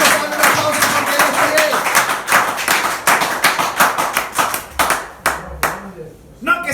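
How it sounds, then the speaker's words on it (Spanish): Church congregation applauds for Jesus Christ with loud, close, rhythmic hand clapping in steady unison beats that thin out toward the end, a voice briefly heard under the claps. "Vamos a darle un aplauso a Jesucristo"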